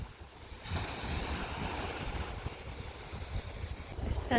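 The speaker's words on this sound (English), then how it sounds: "And what you hear is the waves of the Pacific Ocean crashing onto the shore." Open Pacific Ocean surf washes against the Vancouver Island shoreline in a soft, continuous rumble, swelling gently with rough wind noise on the microphone throughout.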